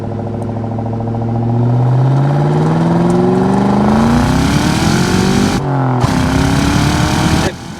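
A 2003 Ford Mustang Mach 1 with its four-valve 4.6-litre V8 pulls hard under acceleration, the engine note rising steadily through the revs before a quick gear change and another climbing run, loud and close from inside the car.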